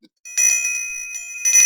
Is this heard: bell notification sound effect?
yes